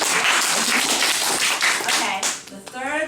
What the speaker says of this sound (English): Give Jen another big applause.